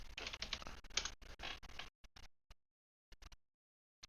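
Bursts of computer keyboard typing, quick clustered keystrokes for about two seconds, then a few scattered isolated taps with silent gaps between them, close and fairly quiet.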